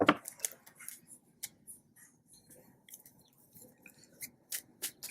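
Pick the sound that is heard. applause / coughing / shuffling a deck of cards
shuffling a deck of cards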